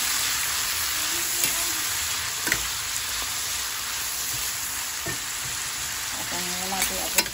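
Bagoong fries in a pan as tomatoes are added, giving a dense, even close-up sizzle with a few brief clinks and stirring scrapes toward the end.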